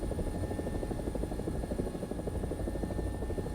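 A steady, loud rotor drone from an AB 205 helicopter, an Italian UH-1H, in flight in a video game, with a continuous beating thrum and a faint high whine that hold evenly throughout.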